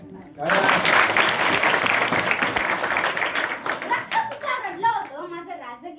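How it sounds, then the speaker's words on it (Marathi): An audience bursts into loud clapping during a speech, a dense crowd applause that peaks quickly and slowly thins out, with faint voices emerging near the end. "टाळ्या"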